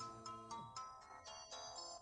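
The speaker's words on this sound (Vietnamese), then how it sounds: "Xin lỗi nghe điện thoại." A mobile phone ringtone chimes in a repeating melodic pattern of bright electronic notes, loud and close, with no talking over it during a Vietnamese drama scene.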